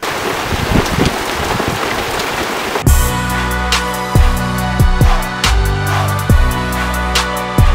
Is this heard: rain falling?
yes